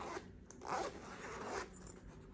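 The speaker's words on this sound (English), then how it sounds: "so zipper works perfect, see." Zipper on a Nike bag being pulled closed, a close, moderately loud rasping run of about a second and a half with a brief louder burst in the middle, then quieter handling.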